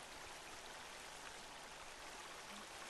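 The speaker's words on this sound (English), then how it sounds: "Is this like a, what is this? Waterfall." Steady broadband rush of falling water from a waterfall in the survival video game The Forest, continuous and fairly quiet, with no voices over it.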